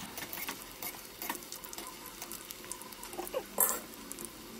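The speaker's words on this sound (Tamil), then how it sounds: "எண்ணெய் காஞ்சதுக்கப்புறம் அதை ஒரு மீடியம் ஃப்ளேமில் வச்சு நம்ம இதை பொரிக்கணும்" Black-eyed bean pakora deep frying in hot oil over a medium flame, soft crackling sizzle with scattered pops and ticks, fairly quiet and close, with no talking.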